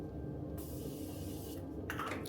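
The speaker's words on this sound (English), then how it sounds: "let me give it a little spray" A handheld spray bottle gives a quick, soft hissing spray in a quiet room, with a brief second burst near the end.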